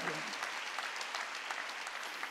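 A church congregation claps during a Wednesday worship service, a brisk dense burst of many hands at steady loudness, heard alone after the preacher's call.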